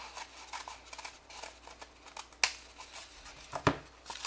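Scissors snip through a sheet of paper during a classroom paper-folding craft lesson, with two distinct crisp cuts standing out against soft rustling and quiet room noise.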